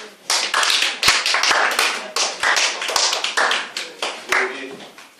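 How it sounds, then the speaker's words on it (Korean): Congregation clapping during a Korean church worship service: a close, sparse run of separate sharp hand claps, irregular in timing, with short gaps and a few louder slaps standing out. "우리 박수."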